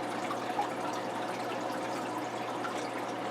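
Continuous soft splashing and trickling of a hose refilling a 55 gallon T-bar aquarium during a water change, steady and moderately quiet with no talking.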